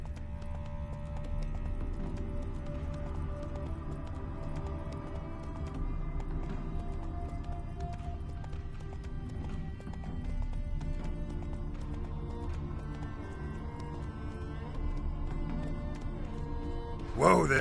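Roach the horse gallops in a video game with a steady, continuous run of hoof clip-clops near and moderately loud, a voice urging it on over the hoofbeats.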